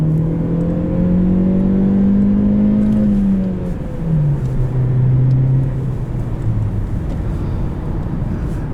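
A 2017 Chevrolet Cruze LS with a manual gearbox pulls hard under acceleration, its engine note climbing steadily, dipping at a shift, then rising again, loud and close from inside the cabin with no talking.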